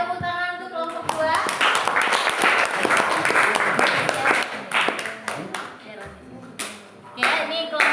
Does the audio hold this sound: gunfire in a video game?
no